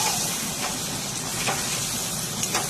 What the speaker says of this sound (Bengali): ভালো করে চিকেনটা কষাচ্ছে।